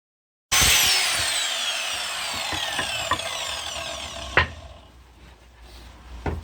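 A power saw bites into decking offcuts with a loud, close whine that starts abruptly, slowly falls away as the blade spins down, and is broken by a couple of sharp knocks.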